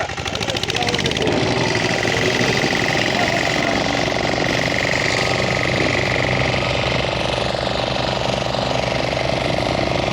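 An earth rammer compacting basement ground before PCC concrete work, a loud continuous rapid thumping engine drone running without pause, with voices faintly beneath it.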